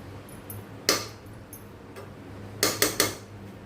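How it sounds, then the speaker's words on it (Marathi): Coconut rice being served onto a plate: a few sharp spoon-against-plate clinks, one near 0.9 s and a cluster of three toward the end, with faint scraping between them in a quiet kitchen. "आता आपण हा एका प्लेटमध्ये काढून घेऊया"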